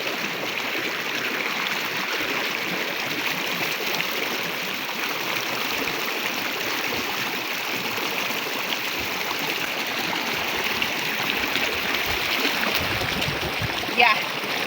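Wild river water rushing steadily nearby, a broad continuous hiss and gurgle with occasional splashes, with a person talking faintly beneath the flow.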